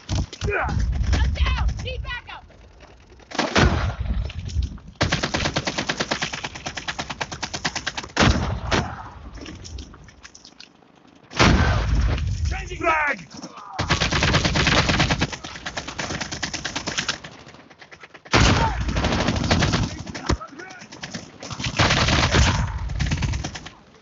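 Bursts of automatic gunfire and rapid shots come in loud clusters, separated by short quieter gaps, during a solo Call of Duty mobile match.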